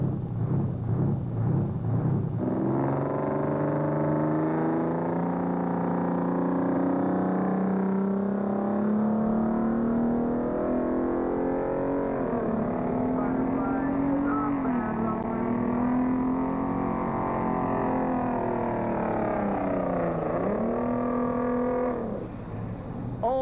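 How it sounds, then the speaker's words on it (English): A big Kenworth truck engine roars steadily at a Tomah truck pull, its pitch climbing and dropping as gears shift, loud and continuous throughout with an announcer's voice over it. "Here comes the big Kenworth, John Mann behind the wheel."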